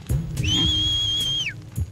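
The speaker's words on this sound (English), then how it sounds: "Make the whistling effect go." A sustained, clear whistle from the Shadow of Rome video game rises and holds steady for about a second before sliding down, heard alone over a low rumbling background.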